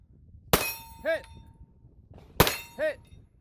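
Two sharp gunshots at a two-gun shooting match, each followed by a ringing clang from steel targets, with a voice calling out briefly after each shot.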